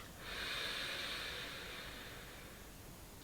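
A single slow, steady inhale through the right nostril during alternate-nostril breathing, a soft airy hiss that swells quickly and then fades gently over about three seconds, close and quiet.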